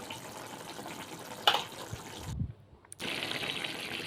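Water is poured from a mixer jar into tomato paste for a pasta dish. A soft, noisy rush of liquid is broken by a brief clatter and a short quiet gap, then resumes.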